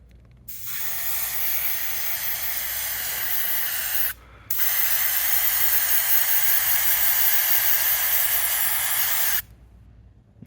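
A spray gun lays a light coat onto the hull of a Sea-Doo jet ski in a DIY bottom job, giving two long, steady hissing bursts split by a brief pause, close and loud.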